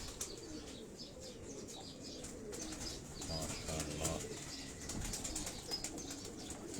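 Pigeons kept by a fancier, faint soft cooing mixed with brief wing flaps and light chirps, distant and low in level with a hiss of background noise and no talking.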